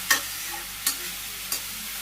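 Bottle gourd sautés in a pan with a steady sizzle while a utensil scrapes and stirs three times at regular intervals, close and clear, with no talking.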